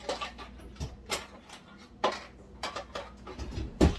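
Kitchen utensils clatter and clink in a few scattered bursts as someone rummages for a spoon, close and fairly quiet with small knocks between the louder rattles.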